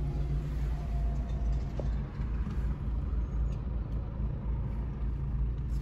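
Steady low rumble of a car cabin on a hot 28-degree day, with a constant engine or air-conditioning drone and faint road noise throughout, no talking.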